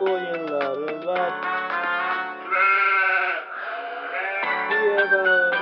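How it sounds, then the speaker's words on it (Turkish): Wavering sheep bleats, loud and drawn out, come in the middle of a lively Turkish children's farm song and sit against its instrumental backing. "Çiftliğinde koyunları var."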